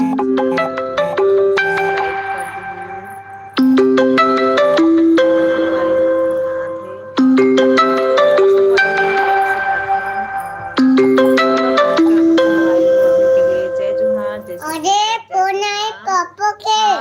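A melodic phone ringtone plays a repeating chime pattern several times in a row, loud and close, with a brief warbling tone near the end.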